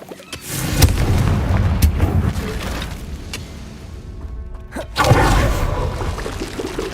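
Confringo blasting spell explosions in the video game Hogwarts Legacy, deep booming blasts with sharp attacks, several impacts in quick succession, then a quieter stretch before another loud blast and rumbling aftermath.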